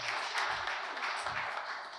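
An audience at a lecture gives a brief, soft round of applause, a dense wash of clapping from a moderately sized crowd that stays fairly even for about two seconds.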